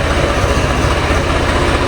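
A tomato-red Swaraj tractor engine runs steadily nearby, a loud, continuous low diesel throb with a rough rumble that holds evenly throughout.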